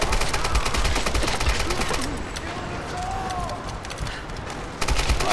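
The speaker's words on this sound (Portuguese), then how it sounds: "Vou na bala, aqui com esses caras não dá pra brincar não." Bursts of rapid gunfire crackle in the Tomb Raider video game, dense repeated shots at the start and end with a quieter stretch in between, loud and close.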